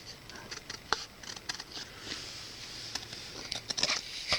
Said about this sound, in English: Might have to cut the advert for the group out.